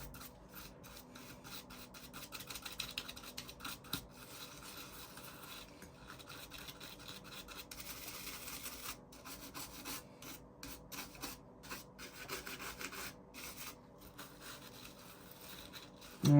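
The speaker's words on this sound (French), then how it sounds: "nettoyer chaque pale du ventilateur" A brush scrubs dust from each fan blade inside an opened Nintendo Switch OLED, giving quiet, close rasping strokes in short repeated bursts with small clicks between them.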